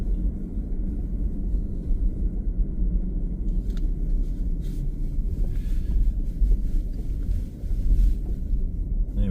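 Strong, cold coastal wind buffets the microphone in a continuous loud low roar, with gusts rising and falling and no voices.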